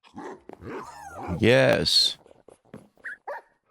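Dogs on an animal property, including two guardian dogs, give a short loud bark and whine burst in the middle, with someone talking to them before and after.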